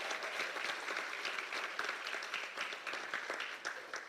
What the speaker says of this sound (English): let's give a great applause to the San Antonio Professional Firefighters Association